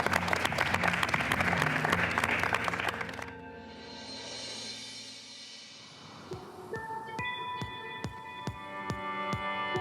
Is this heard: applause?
yes